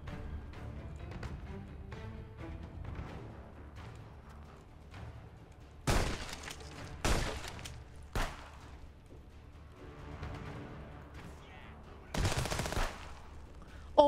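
Several loud gunshot bursts crack out in a shootout in the video game Contraband Police, spaced irregularly across a low background rumble of game sound, with a final burst near the end.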